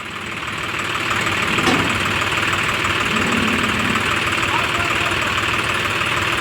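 A heavy tractor engine runs steadily at close range while towing a trolley in a farm field, a continuous low rumbling drone that holds the same level throughout.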